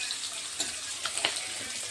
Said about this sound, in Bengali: এখন আমি এই যে একটা দুটো করে মাছ দিয়ে দিচ্ছি। মাছগুলি একটু লাল লাল করে ভেজে নিতে হবে।